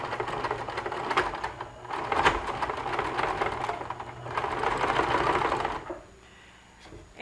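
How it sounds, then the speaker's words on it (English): A sewing machine with a walking foot back stitches a seam on handwoven rigid-heddle fabric. Two close bursts of fast, even stitching whir are separated by a short pause, then the machine stops. "And I'm going to start by back stitching to where I actually want us to start."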